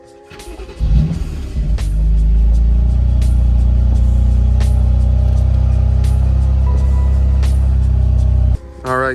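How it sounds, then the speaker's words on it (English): A 2018 BMW M3 F80 fires up with a brief starter whir and settles into a loud, steady, deep idle rumble close by, continuing nearly unchanged before cutting off briefly near the end. "All right, car is currently running"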